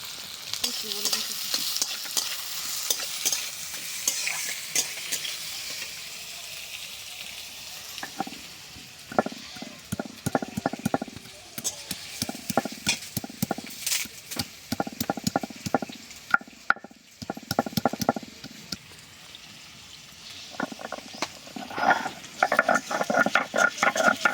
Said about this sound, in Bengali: পেঁয়াজ কুচিটা দিয়ে খুব ভালো করে ভেজে নেব আগে।